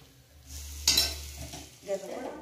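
Khesari greens sizzle steadily in a hot pan, with a sharp clatter of a utensil stirring partway through and softer scraping afterward.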